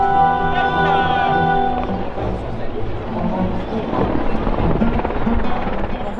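Two helicopters fly in a display patrol at the Vendée Air Show in Les Sables d'Olonne, a steady loud rotor and engine drone with shifting whine throughout, with voices talking over it.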